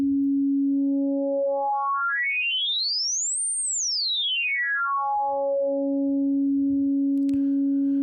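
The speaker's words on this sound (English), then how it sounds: "let's have a listen to how that affects the sine wavetable." A pure sine wavetable synthesizer tone with formant shift glides smoothly upward to a high peak, then sweeps back down and settles into a steady low hum.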